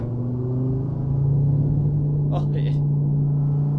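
A Dodge Challenger Hellcat SRT cruises in American Truck Simulator, its engine a steady, deep droning hum at moderate speed, loud and close, while a person briefly speaks over it.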